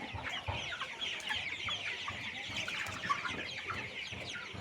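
A flock of colour broiler chickens on a poultry farm clucks steadily and overlaps in a dense, continuous chatter that stays at an even level throughout, with no one talking.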